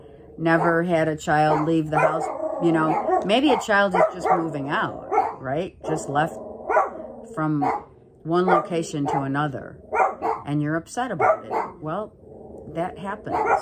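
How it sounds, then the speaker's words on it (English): A dog barks repeatedly in the background, sharp yips breaking through steady close-up talking that continues throughout. "Sorry about the barking."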